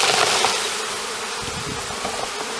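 A dense, steady buzz of many honeybees humming together, close and continuous with no talking, as bees are shaken from a hive frame into a container for varroa mite monitoring.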